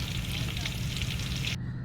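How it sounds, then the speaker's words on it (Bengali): Meat frying in a pot for a large batch of khichuri, a steady close sizzle and crackle that runs continuously and cuts off abruptly near the end. "কিছুক্ষণ নেড়ে নেড়ে ছেড়ে ভেজে নেবো এরকম লালচে কালার হয়ে আসলে নামিয়ে নেব"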